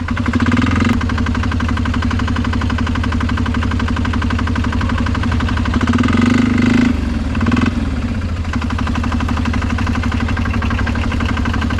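A Polaris Diesel 455 and an Arctic Cat Diesel 700 run at full throttle, a steady, loud diesel drone with a knocking, chugging pulse that holds throughout with only slight swells in pitch.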